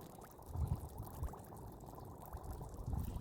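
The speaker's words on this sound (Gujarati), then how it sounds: "આવા બુડબુડિયા કેમ બોલતા હે પાણીમાં" Rainwater after a heavy downpour bubbles and gurgles as it seeps into the ground, a faint, uneven stream of soft bubbling pops close by with no voices.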